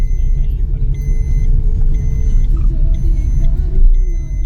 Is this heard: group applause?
no